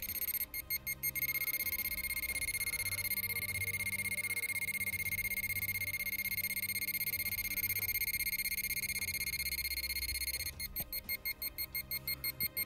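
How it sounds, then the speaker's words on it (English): A metal detector searching among old ruins gives a loud, sustained electronic tone with rapid pulsing beeps at the start and again near the end, heard alone with no talking. "Metal detector picking up signals too close."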